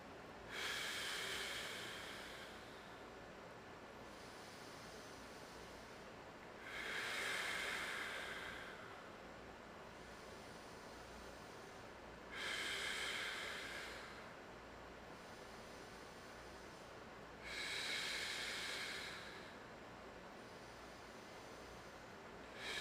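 Slow, deep breaths during a yoga breathing exercise for the spine with a yoga block, each long airy exhale rising and fading at a steady, unhurried pace, close and alone with no talking.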